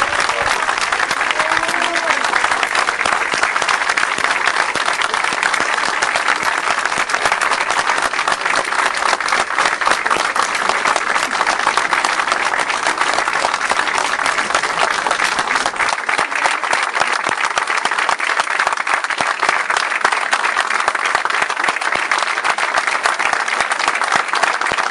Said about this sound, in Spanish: Un minuto de aplausos, compañeros, por favor.